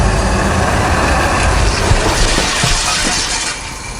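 Honda Pilot with the new AWD system in normal drive mode, pulling away from a stop in sand under light throttle; a steady broadband engine and tire roar stays loud and even, then eases slightly near the end.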